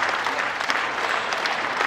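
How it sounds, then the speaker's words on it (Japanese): Warm audience applause at a hometown solo recital during a music festival: continuous, fairly close clapping that fills the whole short stretch without speech. "たくさんの拍手とアンコールをいただきましたので"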